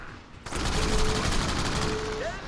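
Gunfire in the video game Crackdown, a sudden burst of rapid shots that starts abruptly and continues as a dense rattling fusillade, fairly loud with no talk.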